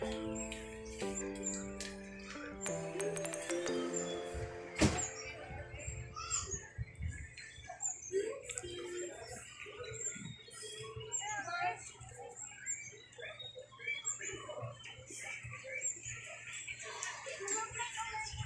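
Pet pigeons in a training box, giving soft coos and scattered chirps and squawks that run through most of the clip, after a loud opening burst of other sound.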